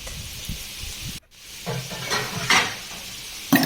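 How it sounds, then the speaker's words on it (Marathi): Cumin powder, coriander powder and kitchen king masala sautéed into a gravy paste for halvai-style mixed vegetable masala, giving a steady close sizzle with scraping stirs and a brief sharp pan clatter. "आपण जिरा पावडर, धणा पावडर आणि किचन किंग मसाला टाकून परतून घेऊयात"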